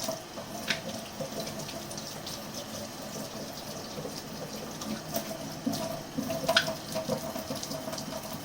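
Running tap water rinses a straight razor on its hone, a steady close splashing wash that holds for the whole stretch, with a couple of brief sharper splashes near the start and end and no talking.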